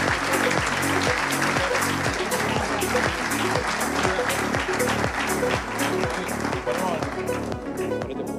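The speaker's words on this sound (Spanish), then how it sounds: "Fuertes aplausos para Ariel." An event audience at the Premio Jefe BA 2022 awards applauds the winner, dense sustained clapping with a rhythmic pulse and strong low-end thumps, likely music, running throughout, with voices mixed in.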